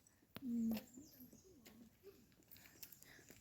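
A single soft bird call rings out briefly near the start, followed by faint chirps over a quiet outdoor background on Narendra hill in Sawantwadi, Sindhudurg.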